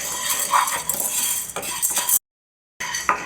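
Food fries in a pan on a stove over medium heat while a metal spoon stirs and scrapes against it, sizzling steadily with clinking strokes, up close, broken by a brief silent cut before stirring resumes.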